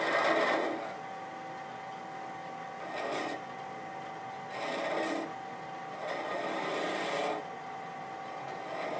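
A skew chisel cuts wood on a lathe while turning a shawl ring and pin, giving four rasping passes of cutting noise separated by brief pauses over a steady machine hum.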